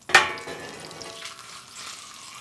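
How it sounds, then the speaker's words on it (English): A reverse-seared bone-in steak hits a hot pan with a sharp initial hiss, then settles into a quieter, steady sizzle, close by and without talk. "time to sear this steak"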